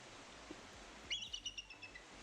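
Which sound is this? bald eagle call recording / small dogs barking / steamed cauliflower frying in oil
bald eagle call recording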